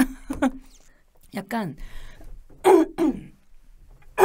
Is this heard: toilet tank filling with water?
no